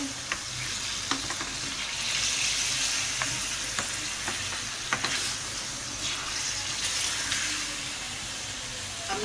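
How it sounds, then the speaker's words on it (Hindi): Chicken with about three spoonfuls of yogurt being fried in a karahi pan, a continuous close sizzle with scattered bursts and clicks of stirring, no voices. "इसे थोड़ा सा हम भूनेंगे।"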